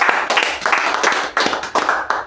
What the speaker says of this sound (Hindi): उनके लिए चाहूंगा एक बार जोरदार ताली से।